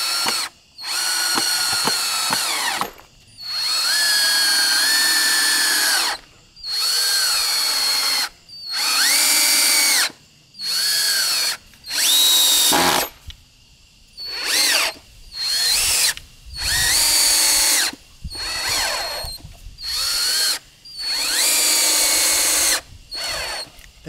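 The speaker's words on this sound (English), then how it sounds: "So I'm just going to go ahead and screw this board to the crossbeam here." A power drill drives long 3-inch exterior screws through a board into a crossbeam for a mailbox post, loud whirring bursts of a few seconds each, repeated about a dozen times with short pauses and ratcheting clicks between.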